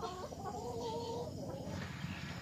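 Chickens cluck softly with a rooster's voice mixed in, fairly close but quiet, a short burst of backyard fowl chatter over low background noise.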